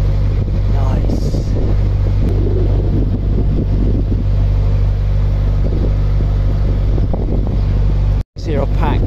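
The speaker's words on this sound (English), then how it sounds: "It's very windy." Strong wind buffets the microphone aboard a canal boat near Newark, a loud, constant low rumble with gusting swells, cut off by a brief dropout near the end.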